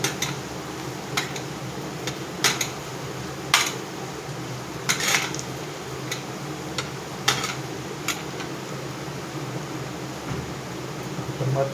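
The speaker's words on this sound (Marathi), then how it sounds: "मसाले आपल्याला फोडून घेऊया, मिक्स करून घेऊया कांद्या बटाट्याला" A spoon stirs spices into onions and potatoes in a pan, clinking against the metal in scattered, irregular taps over a steady background hum.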